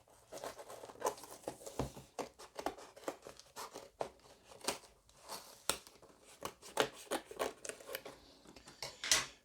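Scissors cutting into a cardboard shipping box being opened, heard as a quiet, irregular series of snips, scrapes and crinkles close by, with no talking.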